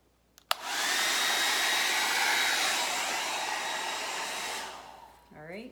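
A hair dryer blasts steadily for about four seconds, pushing paint across ceramic tiles in a Dutch pour, a loud even whoosh that starts with a click and then cuts off, followed by faint handling noise.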